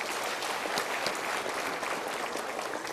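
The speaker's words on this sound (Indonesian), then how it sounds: "Super, kita berikan tepuk tangan." Audience applause at a motivational seminar talk, a dense steady burst of clapping from a crowd that holds for the whole span with no speech over it.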